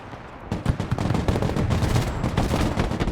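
Rapid German MG3 and G3 gunfire in the Broken Arrow video game, dense overlapping bursts of automatic shots crackling continuously and loudly, with no talk.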